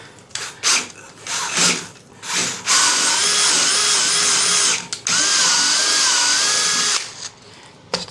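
A power drill fitted with an angled bit works on a pipe during a bathroom wall-panel installation, whirring in two loud sustained bursts separated by a brief pause, with shorter intermittent revs before and after.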